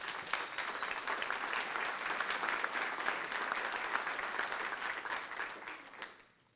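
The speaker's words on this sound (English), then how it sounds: "Give them a round of applause." Sustained applause from an audience honoring school principals at a district State of the Schools address, dense even clapping for about six seconds before tapering off.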